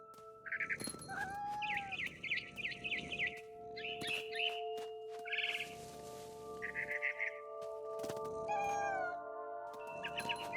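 Game cat from What Remains of Edith Finch on PS5 meows several times in clear, close bursts, with a steady ambient tone and faint bird-like calls in the background.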